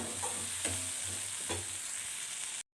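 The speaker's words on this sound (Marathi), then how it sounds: "जास्त नाही पण थोडंसं बेसन पीठ ॲड करते तर हे पण या व्यवस्थित या मसाल्यामध्ये भाजून घ्यायचं" Gram flour roasting in oil with masala for a cashew curry, stirred in the pan: a soft steady sizzle with a few light scrapes of the spoon, fairly quiet, cutting off abruptly.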